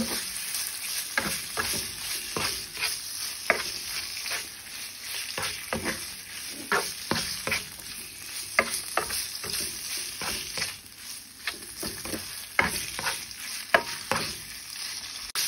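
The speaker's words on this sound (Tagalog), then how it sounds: "idaghan natin yung minarinate natin pork loin. Igisa na natin." Marinated pork loin sizzles steadily in a hot pan for a stir fry with bell pepper. Repeated scrapes of stirring run over the constant frying hiss, close up and with no talk.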